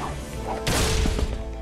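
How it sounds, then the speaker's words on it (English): A wrench smashes a crate in the Ratchet & Clank video game, one loud sudden crash of breaking wood with a brief scatter of debris, set over a steady game soundtrack. "Break that box."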